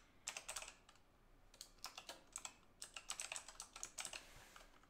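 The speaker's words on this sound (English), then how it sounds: "so I'm just going to type it." Typing on a computer keyboard in quick irregular clusters of light clicks, close and quiet, with no one speaking.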